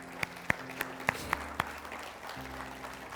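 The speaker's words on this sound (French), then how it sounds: "Est-ce qu'on peut applaudir Jésus ce matin pour ce qu'il a fait?" Church congregation applauding during a Sunday service, a few sharp scattered claps at first building into quieter mixed clapping, moderately close in a reverberant room.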